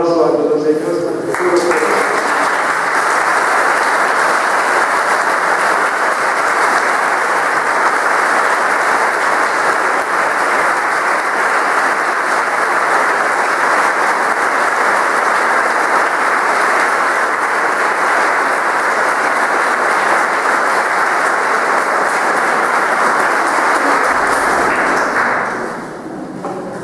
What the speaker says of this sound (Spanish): Antes de pedir al Señor por estos jóvenes, un aplauso a todos ellos.